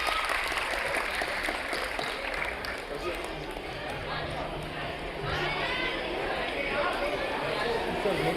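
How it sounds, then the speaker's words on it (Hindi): A live comedy show audience claps throughout, a broad, steady patter from a crowd with some chatter and voices mixed in beneath it. "जरा जोरदार तालियां वंस अगेन।"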